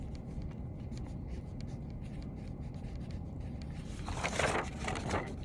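A hand writes on paper in a steady scratchy scribble over a continuous low background hum, with a brief louder rubbing stroke near the end.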